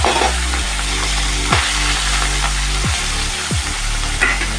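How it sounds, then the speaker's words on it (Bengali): Small Ganges morola fish sizzle loudly in hot oil in a wok, a thick, close frying hiss with a spatula scraping through the pan every second or so, no voices. "এবার মাছগুলো আমি এতে ভেজে নেব।"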